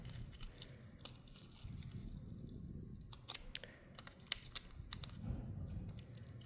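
Scissors cutting open a Cecropia moth cocoon, with small close snips and crisp clicks and faint scraping, quiet and intermittent, and no talking.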